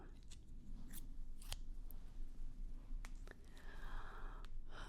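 Scissors snip in a quiet close-up setting, several crisp, sharp cuts spaced irregularly over a soft background hiss.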